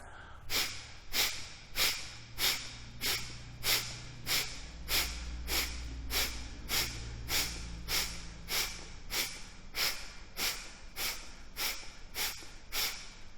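Deep, even breaths during yoga practice, roughly seventeen inhale-exhale cycles in a steady slow rhythm, close and clear, with no talk.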